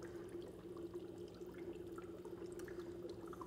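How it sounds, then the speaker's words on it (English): Copper-plated parts being rinsed under a steady stream of water, a continuous close pour with faint dripping and trickling and no talking. "Let me rinse them off so I can show you them."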